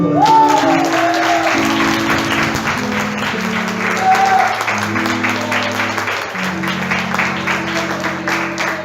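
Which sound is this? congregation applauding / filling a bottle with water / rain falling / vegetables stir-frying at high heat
congregation applauding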